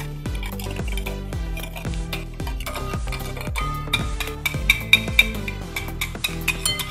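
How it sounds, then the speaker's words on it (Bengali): Eggs being mixed with milk in a bowl for chicken roll batter, a utensil clinking and scraping in quick repeated strokes, close and clear, with no talking. "এখন আমি দুধের সঙ্গে ডিমটা ভালোভাবে মিশিয়ে নিব।"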